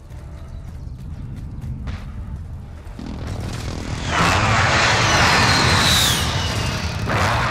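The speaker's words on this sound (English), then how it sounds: "Precision airstrike, take cover!" Precision airstrike in Call of Duty: Warzone, a loud broadband rush of jets and blasts swelling midway and holding steady to the end, with no talk.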